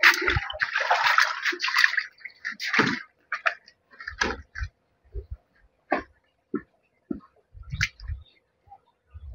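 A stone-weighted net for catfish egg hatching is lowered into water, giving a run of close splashes, gurgles and drips in uneven bursts, loud at first and then in sparser pulses.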